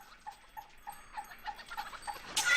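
A person imitates a dog, letting out a regular series of short, soft yipping barks that stay fairly faint before a louder rustling burst at the end.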